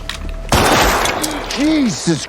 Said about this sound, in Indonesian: Elisa langsung mengambil pistol itu dan menembak ke arah Chris